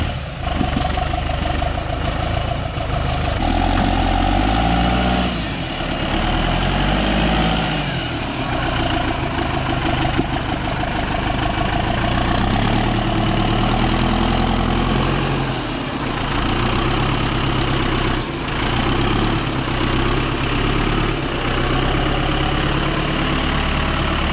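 A big diesel engine in a Jeep Wrangler idles with a steady, loud, slightly knocking clatter that holds for a long stretch, swelling briefly now and then, with no talking.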